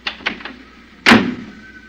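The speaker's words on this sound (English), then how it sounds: "I don't think your door's closed tight, honey." A car door closes with a single firm thud about midway, preceded by a few light clicks and rattles, close and fairly loud in a quiet setting.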